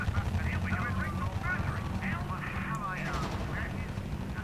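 Gunfire crackles in the background of a R.U.S.E. strategy game battle with aircraft, faint and steady beneath ongoing game voice announcements and a droning engine-like rumble.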